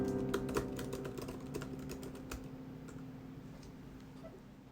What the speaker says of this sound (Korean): 타건 시에 살짝 흔들리긴 하지만 크게 무리 없이 타이핑이 가능하네요